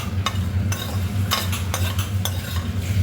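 Chicken pieces frying in a pan for a dry fry, with a steady low sizzle under repeated scraping and stirring strokes from a utensil, close and fairly loud, with no talking.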